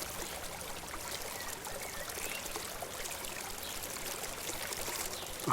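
Water pours steadily into a swimming pool built from PVC pipes, a soft continuous splashing trickle heard alone at low volume.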